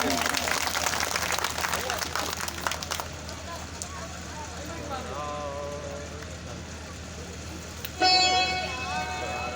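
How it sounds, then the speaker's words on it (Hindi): A burst of audience clapping fills the first few seconds at a Hindu devotional gathering, then gives way to a quieter room with talk and faint music. "भैया जी के लिए जोरदार तालियां हो जाएं।"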